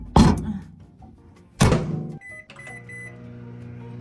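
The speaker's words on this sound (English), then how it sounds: "It's going in the microwave." A microwave oven door thunks shut twice in close succession, loud and near, followed by the appliance's quiet electronic beeps and hum in a home kitchen.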